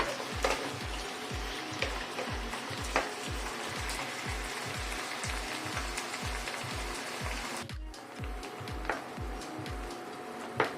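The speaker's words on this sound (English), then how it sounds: "Let's saute them well." Prawns sauteing in a pan for a safed curry, a soft steady sizzle with a constant crackle, under a regular low thumping pulse that repeats roughly twice a second throughout.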